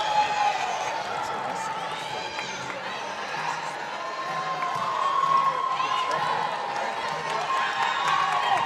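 Crowd noise fills a high school volleyball gym at a North Dakota regional semifinal, a steady murmur of cheering and shouting with occasional squeaks and footfalls, running under continuous talk.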